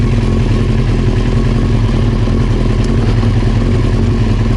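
A Honda CBR 900 Fireblade engine idles steadily close by, a loud, even throbbing rumble with mechanical clatter and no change in revs.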